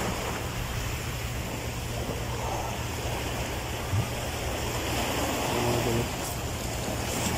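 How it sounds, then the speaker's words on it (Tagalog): Waves wash steadily onto a rocky, coral-strewn beach in Mindanao, a continuous broad rushing roar with no clear breaks and a faint low hum underneath. "Ang dagat."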